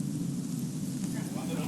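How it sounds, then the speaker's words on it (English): Rain begins falling outdoors during a band's video shoot, a steady, dense hiss of drops with a low rumble underneath and faint voices in the background. "It just started raining and we had to cover up all the equipment and everything"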